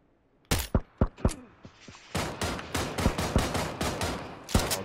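Gunfire in the battle royale game PUBG, a few sharp single shots followed by rapid bursts of automatic fire, loud and close with echoing tails.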